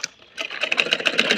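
A sewing machine stitches close by: a quiet start, then a fast, even rattle of needle strokes that keeps going to the end.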